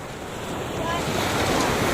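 Sea waves wash onto a beach in a steady broadband rush that swells slightly louder toward the end, with some wind noise mixed in.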